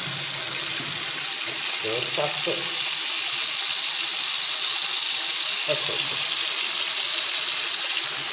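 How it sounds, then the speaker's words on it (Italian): Water runs steadily from a tap into a sink during a waterproofing test of a Fitbit Charge 2 fitness tracker, a constant hiss and splash with someone speaking briefly over it. "Questo lavandino vedo che non è che si riempia molto d'acqua"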